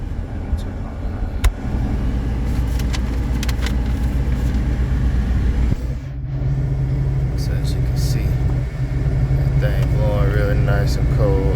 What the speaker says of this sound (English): as you can hear the AC blowing